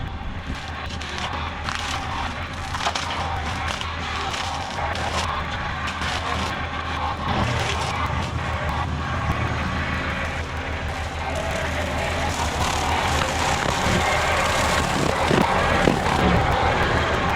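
A skid steer with a boom mower attachment runs steadily near a pond edge, giving a continuous dense mechanical roar with a broadband whir that builds slightly louder toward the end, with no talk.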